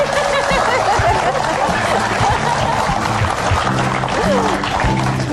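A television talk show studio audience applauds, steady clapping blended with snickers, laughter and chatter that carries on evenly for several seconds.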